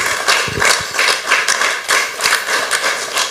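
An audience at an awards ceremony applauds Pastor Siméon Kadila with rhythmic clapping that rises and falls in regular bursts, close and fairly loud, with no talk over it.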